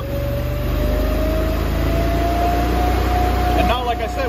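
Engine of a Japa 395 firewood processor throttling up, a steady loud drone with a slowly rising pitch, close and continuous, with a brief clatter near the end.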